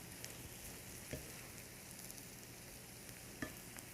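Purple cauliflower being stirred with breadcrumbs in a sizzling pan, a steady frying hiss with a few soft scraping knocks of the spoon.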